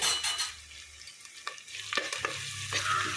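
Curry leaves and onions frying in hot oil, a steady soft sizzle broken by a few light stirring scrapes in the pan, close and alone without talking.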